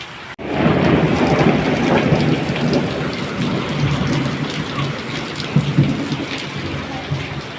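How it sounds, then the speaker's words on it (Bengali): Heavy rain pours outside in a thunderstorm, a dense, loud and continuous roar of drops on surfaces with low rumbling underneath. No voices are heard. "তো দেখো বাইরে কত বৃষ্টি হচ্ছে।"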